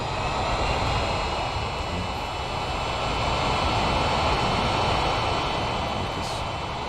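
An Air India Boeing 787 Dreamliner lands in a flight simulator game, its jet engines giving a steady, loud roar with broadband rushing noise. The sound holds constant throughout, with no voices.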